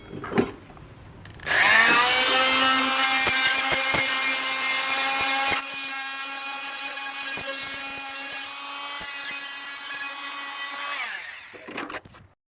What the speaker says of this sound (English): The alternative is to use a multi-tool with a blunt blade on the end, so we're going to give that a try.